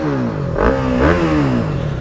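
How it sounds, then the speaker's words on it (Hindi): TVS Apache RR310 motorcycle with a full system exhaust and dB killer fitted, rising and falling through a couple of quick revs, a deep throaty engine note heard close, no talking. "एंड एग्जॉस्ट नोट्स हो तो सुनो एक चलते चलते"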